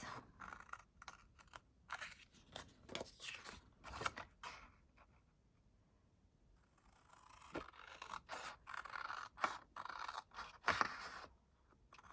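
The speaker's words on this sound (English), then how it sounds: "I think with scissors you can easily do it as well" Scissors snip through paper in quick, close bursts of crisp cuts, pausing briefly midway before resuming with more rapid snips.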